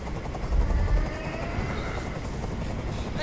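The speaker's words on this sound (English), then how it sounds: "Tell that helicopter to get out of here." A helicopter in the video game Detroit: Become Human, heard as a loud, continuous rotor thrum and rumble, strongest early on and holding steady throughout without speech.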